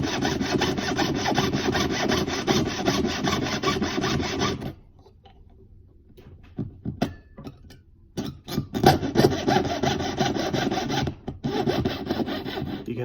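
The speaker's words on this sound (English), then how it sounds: "You'll hear the pitch rise, and then when you're almost cutting through the material, it'll actually drop." A hand saw cuts through pin rivet material in steady back-and-forth rasping strokes, close and loud, then pauses with a few light scrapes before the sawing resumes.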